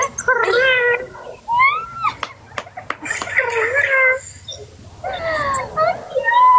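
A cat meows repeatedly in close, drawn-out, wailing calls separated by short pauses, with someone talking between and around them.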